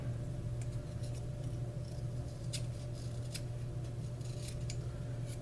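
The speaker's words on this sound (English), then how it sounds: "Go around and trim off any of the excess plastic that got ground down." Excess ground-down plastic is trimmed off the sled of a dual-18650 SX350J box mod with small snipping clicks scattered over a steady low hum, close and fairly quiet.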